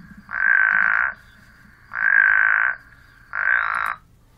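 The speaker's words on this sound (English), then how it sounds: "So let's take a listen to see what a spadefoot toad sounds like." Three loud, close calls from a spadefoot toad in North Dakota, each a raspy, snoring croak lasting under a second and repeated about every one and a half seconds over quiet background.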